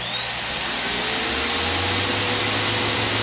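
Two window air conditioners and a miter saw start together on a 12 volt low-frequency inverter, making a loud steady whir with a rising whine as the saw motor spins up, continuous and close.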